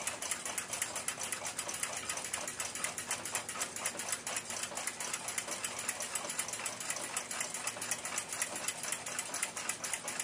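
A Waltham 7 jewel pocket watch movement ticks with its balance wheel swinging freely, a rapid, even, close-miked ticking that runs steadily throughout without pause.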